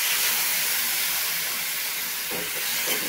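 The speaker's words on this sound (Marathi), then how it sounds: "थोडंसं आपण पाणी टाकून घेऊया." Water poured into a hot pan of drumstick curry masala sets off a loud, close, steady hiss and sizzle that fills the whole stretch without a break, with faint stirring scrapes toward the end.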